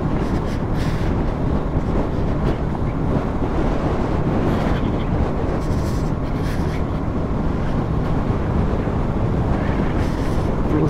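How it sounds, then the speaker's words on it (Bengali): Strong cold wind on a high mountain pass road in Spiti blasts the microphone in a constant, loud roaring rumble for the whole stretch, with no talk. "প্রচুর বাতাস, ঠান্ডা"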